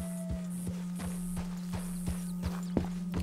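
Hooves of a Shire horse being led back at a walk in Red Dead Redemption 2, a steady even clip-clop over a constant background hum and a faint high tone.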